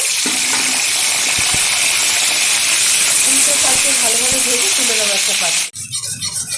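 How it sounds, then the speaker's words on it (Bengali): Peeled, slit boiled eggs drop into hot mustard oil and fry with a loud, steady sizzling hiss close by, crackling throughout before cutting off abruptly near the end, leaving quieter background noise. "তেলটা গরম হয়ে গেছে তেলের মধ্যে দিয়ে দিচ্ছি আগে থেকে সিদ্ধ করে রেখে নিয়েছি ডিমটা"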